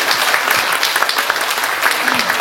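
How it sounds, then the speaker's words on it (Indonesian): A crowd claps loudly and continuously at a talk on the Legong dance of Peliatan, Bali. The applause is a thick, sustained burst of many hands close by, with no pause. "Tepuk tangan dulu."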